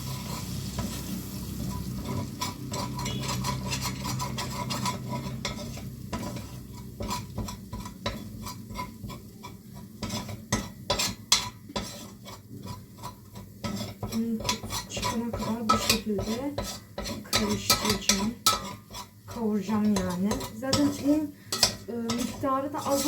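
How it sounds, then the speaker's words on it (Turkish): Flour roasting in a pot on a home stove for tomato soup, stirred constantly with a metal spoon that scrapes and clinks rapidly against the pot, over a soft dry sizzle, close and busy with no talking. "Şimdi unun kokusu çıkana kadar kavuracağım."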